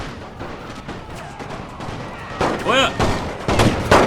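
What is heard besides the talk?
gunfire from troops in the video game Napoleon: Total War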